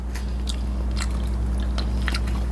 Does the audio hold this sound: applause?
no